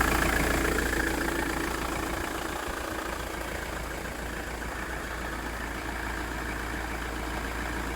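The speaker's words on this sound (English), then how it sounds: "it's been 5 minutes of idling. It's definitely working, it's on." A van engine with a stalling fault idles steadily, a constant low rumble and hum continuing evenly without talk for several seconds.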